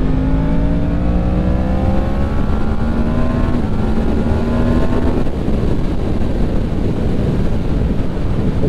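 A Yamaha MT-10 motorcycle ridden through bends, its engine droning loud and close as the pitch climbs through gears and then falls back, with heavy wind rush over the microphone throughout.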